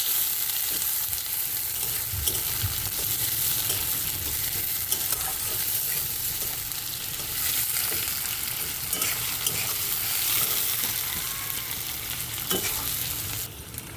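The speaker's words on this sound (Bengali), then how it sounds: "পেঁয়াজটা প্রায় ভাজা হয়ে গেছে" Chopped onions frying in a pan give a loud, unbroken hissing sizzle with steady stirring and scraping throughout, close up and without any voices.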